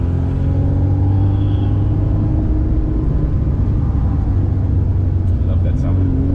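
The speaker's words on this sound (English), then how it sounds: "So a good day to actually drive the Alfa Romeo out." The engine of a 1979 Alfa Romeo Alfetta 2.0 drones steadily from inside the car while driving. Its low, even hum holds at a constant pitch, with a few faint clicks near the end.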